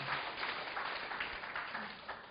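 Church congregation applauding elderly members in a steady, muffled patter of many hands, soft and somewhat distant, holding evenly through the whole stretch.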